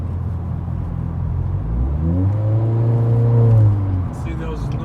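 A Honda Accord Sport 1.5T pulls away hard, the engine note rising smoothly in pitch as it accelerates from inside the cabin, steady without stutter, with low road rumble underneath.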